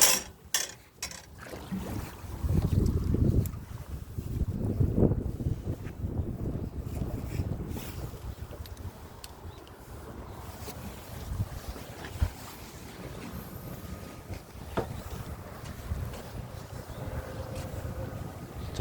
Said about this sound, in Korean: 다리 바깥쪽은 바람이 엄청 셉니다